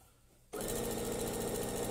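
A sewing machine starts abruptly and stitches a straight quilt seam down the centre of a star block, a fast, even, close whirring rattle after a brief quiet moment.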